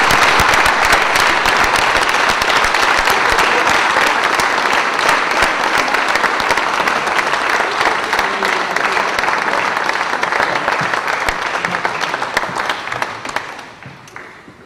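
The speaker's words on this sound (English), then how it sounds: "Please give a round of applause to our new head football coach for Waterloo East." A crowd at a high school ring of honor ceremony applauds loudly for the new head football coach, a dense, sustained ovation with a few cheers that fades out near the end.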